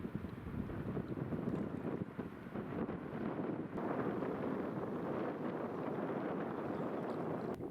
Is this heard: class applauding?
no